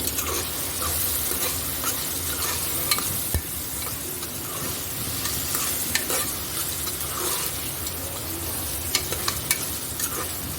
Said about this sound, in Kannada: ಈರುಳ್ಳಿ ಟೊಮೆಟೊ ಮೆಣಸಿನ್ಕಾಯಿ ಎಣ್ಣೆಲಿ ಫ್ರೈ ಆಗಬೇಕು ಚೆನ್ನಾಗಿ